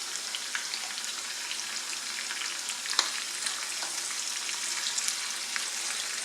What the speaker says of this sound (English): add it in so that it warms up whilst the onions are also getting sauteed